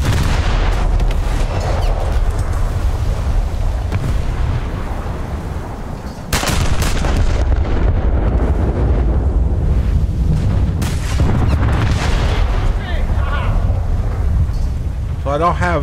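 Naval guns boom in a video game sea battle, with heavy blasts and sharp rapid bursts over wind-like noise, loud and close, while a voice talks at times.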